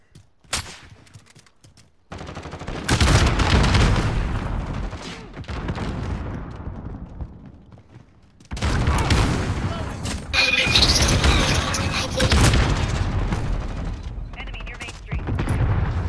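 In a shooter video game match, loud explosions and bursts of gunfire come in several heavy waves with rumbling booms, and short quiet gaps fall between them.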